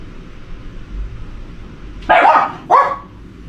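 A dog gives two sharp, loud barks in quick succession over a quiet low background rumble.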